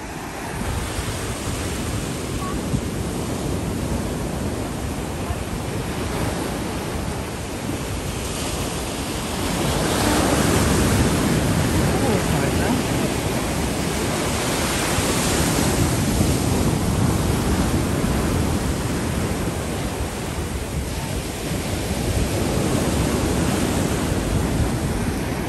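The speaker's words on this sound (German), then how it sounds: "die Wellen sind aber richtig groß heute" Large sea waves break and wash up a beach in Alanya, Turkey, a loud continuous roar of surf with surging swells and wind buffeting the microphone, no voices.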